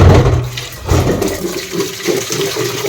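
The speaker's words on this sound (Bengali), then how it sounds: "এটা হচ্ছে ময়লার বালতিটা, একটু ধুয়ে নিই" Running water gushing into and over a kitchen trash bucket as it is rinsed, a loud close rushing splash that surges and churns with shifting tone, no voices.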